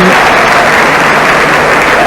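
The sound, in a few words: football crowd applauding a substitution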